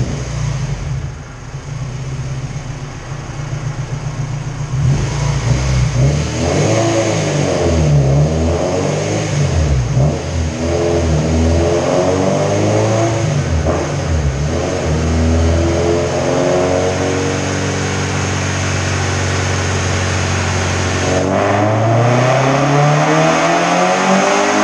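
A Honda car engine running on pump gas or E85 revs hard on a dyno, climbing and falling through several loud sweeping pulls with a steady roar throughout.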